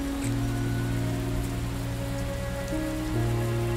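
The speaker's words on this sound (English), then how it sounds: "now we need to make it stop raining" Steady rain patters over a sustained low tonal hum, like game background music, in the game Xing, continuous and even with no voices.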